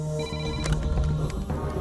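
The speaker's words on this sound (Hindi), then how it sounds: "पहले दिन के फोन कॉल ने चैत्रा की जिंदगी को बदल दिया।" A telephone rings with a steady electronic tone over a busy, layered background of music and noise; no speech.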